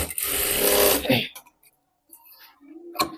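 Sewing machine stitching a blouse seam, a dense buzzing run of rapid stitches for about a second, then stopping into near silence with small handling clicks and a brief murmur.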